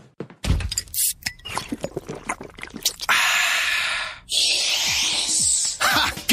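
A Coke can or bottle is cracked open and poured, a sharp thunk followed by a long hissing fizz and pouring splash, with a second burst of fizzing after a short pause, loud and close.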